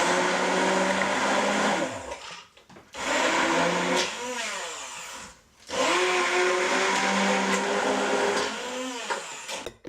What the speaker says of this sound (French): Puis, nous allons mixer l'ensemble.